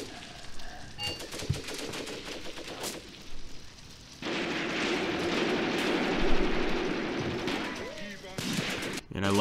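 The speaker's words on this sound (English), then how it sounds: "Nice mortars. Guess our men have some mortars here." Mortar and gunfire in the war game Graviteam Tactics: Mius Front, with bursts of shots and rumbling blasts rising into a dense, sustained barrage, while someone talks over parts of it.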